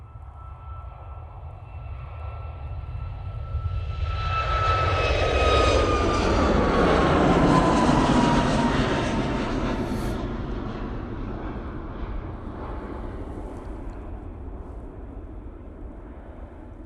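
A Ryanair airliner on its takeoff roll at Manchester Airport, bound for Dublin, builds into a loud jet roar that swells, peaks and then slowly recedes over several seconds.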